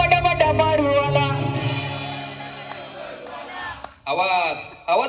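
A live Marathi music show crowd shouts and cheers loudly and continuously, voices and chanting blending with singing and music, then a brief dip before the roar returns.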